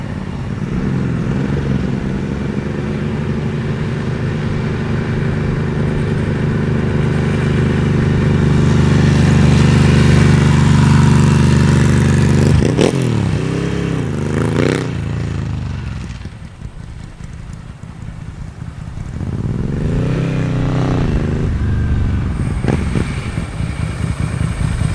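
A Ducati Mike Hailwood 900e motorcycle engine runs loud and close, a steady throaty idle that swells, then drops with sharp revs and falls away, alone with no talking.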